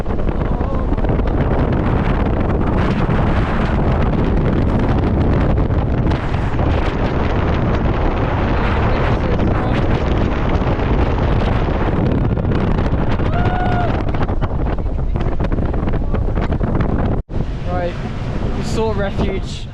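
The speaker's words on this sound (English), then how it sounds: "Okay, we stopped off at the top of the mountain. It's very windy." Strong mountaintop wind near Everest on the Tibetan side buffets the microphone in constant loud roaring gusts, with a brief dropout near the end and faint voices.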